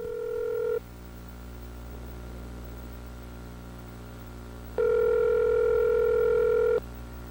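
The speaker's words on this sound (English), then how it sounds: "Darst began with a phone call to Hechenova last Tuesday." Telephone line placing a call: a steady dial tone sounds briefly, drops to a quiet hiss, then returns loud and sustained for about two seconds before cutting off, over a low electrical hum.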